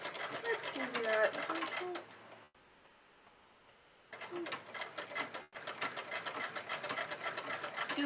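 Sewing machine stitching elastic offcuts together, a fast, even mechanical whirring run that stops briefly, then starts again and keeps going, heard up close.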